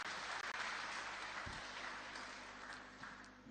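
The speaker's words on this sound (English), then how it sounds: "Let's clap for them, ladies and gentlemen." A church congregation applauds a choir, the clapping steady and broad across the hall for several seconds, without anyone speaking over it.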